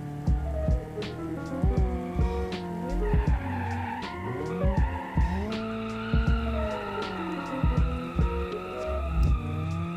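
A Miramar drift build in the BeamNG driving game slides through a turn, its tires squealing in long, rising and falling whines over a steady engine drone, loud and close with no voices.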